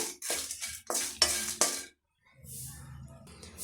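Chillies and spices dry-roast in a pan over a medium flame for temple-style puliyodharai. Several loud, rattling scrapes and stirs come close together, then a brief silence, then a faint low hum.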